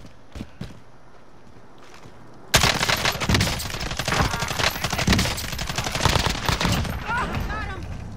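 Fake gunfire from a decoy grenade in the video game Warzone: after a quiet start with a few light taps, dense rapid bursts of shots break out and continue steadily, sounding fairly close and loud.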